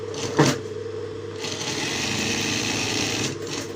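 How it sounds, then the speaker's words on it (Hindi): An electric sewing machine stitching a front pocket, running in a steady, close, continuous whir after a brief start, with a short pause near the end. "ये आप देखें इसको अब सिलाई लगा रहे हैं हम"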